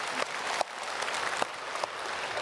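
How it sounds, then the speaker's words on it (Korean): A church congregation at a Sunday worship service claps for the choir, dense steady applause with a few sharper claps standing out, moderately loud and filling the hall. "박수로 축복하겠습니다."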